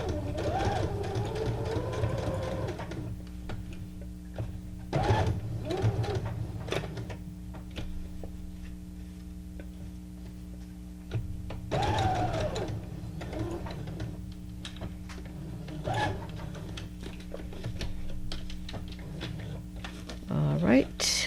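A sewing machine runs in bursts of steady mechanical whirring and ticking, stitching at an even pace, with someone talking over and between the runs.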